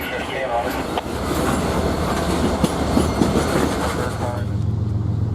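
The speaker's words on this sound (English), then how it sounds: "Here's a Union Pacific Herzog ballast train heading to Proviso Yard in Proviso, Illinois." A Union Pacific Herzog ballast train rolls past nearby with a heavy rumble and rhythmic clickety-clack of wheels over rail joints, loud and steady, with a faint squeal among the passing cars.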